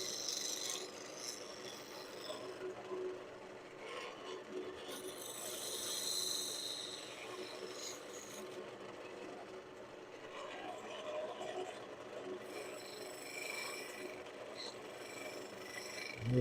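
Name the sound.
shear scraping wood on a lathe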